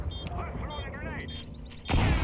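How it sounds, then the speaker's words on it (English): Grenade explosion in a first-person shooter game, a sudden loud boom near the end following quieter game sounds and background noise. "I'm throwing a grenade."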